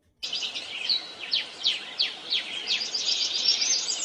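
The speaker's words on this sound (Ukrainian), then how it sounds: "Малята, послухайте, як співають пташки." Birds sing nearby in a lively series of repeated high, sweeping chirps and trills over a soft background hiss.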